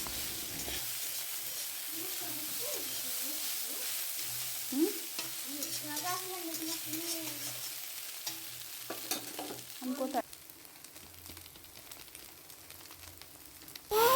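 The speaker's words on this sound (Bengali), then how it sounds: "তো এবার চিড়েটা দিয়ে নিচ্ছি, দিয়ে এবার পুরোটাকে ভালো করে একসাথে মিশিয়ে নেব।" Flattened rice pulao is stirred and tossed in a frying pan, a soft steady sizzle under repeated scraping and spatula scrapes, fairly quiet and close, with no talking.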